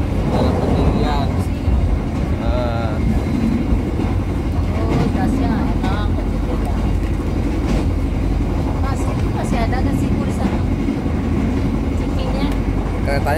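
Passenger train on the Bangunkarta route toward Senen station in Jakarta, heard from inside a carriage: a continuous rolling rumble with faint rhythmic rail clatter, steady throughout as people chat over it.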